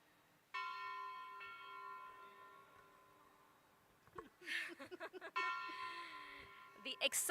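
A ceremonial bell rings at the stock listing ceremony of DEE Development Engineers Limited. There are two long, ringing metallic tones, each left to decay, with people talking and murmuring between and over them.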